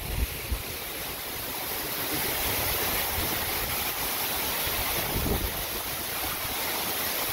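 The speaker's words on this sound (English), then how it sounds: "The sound of the water is like, it's relaxing." Steady rushing, splashing water from a fountain at Preston Hollow Village fills the scene, a constant broadband wash with no voices.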